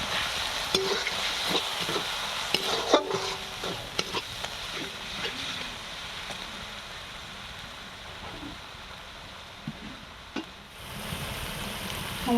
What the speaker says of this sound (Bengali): এবার দেবো জিরে গুঁড়ো আর ধনে গুঁড়ো, আর দেবো স্বাদ মতো নুন, আর ভালো করে কষিয়ে নেব